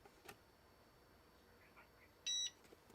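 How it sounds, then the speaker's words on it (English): A single short, high electronic beep rings out clearly over a quiet room background with faint small clicks and no talking. "Oh, I heard the beep."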